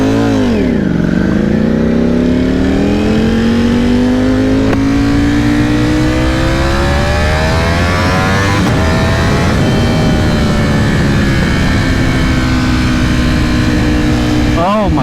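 A 2020 Ducati Panigale V4R motorcycle fitted with an Akrapovic race exhaust revs loud and close, its engine pitch sweeping up and holding high, then dipping and climbing again with a sharp rise at the end.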